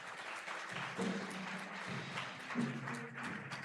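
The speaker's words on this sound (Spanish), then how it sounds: "Denle un aplauso al Señor." Church congregation applauding during a service, steady distant clapping with a low musical hum underneath.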